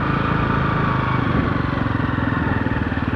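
A Honda XRE 190 motorcycle engine runs loud and steady up close as it rides along a canal-side street past a street market, with a continuous rumbling drone and no voices.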